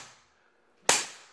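A heavy-duty fly swatter whacks once, a single sharp loud crack after a moment of near silence.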